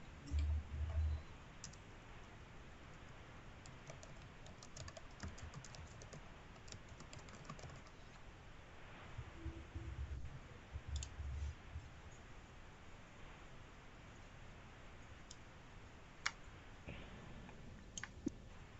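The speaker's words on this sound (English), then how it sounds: "And John's typing something else." Computer keyboard typing during an online meeting, with scattered key clicks and short bursts of keystrokes over a quiet, faint background.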